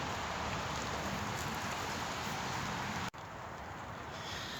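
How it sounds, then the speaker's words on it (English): Light rain falling steadily in woodland during a storm at a wild camp, a dense, even hiss of drops close by with one brief dip partway through. "It's just started spitting rain again."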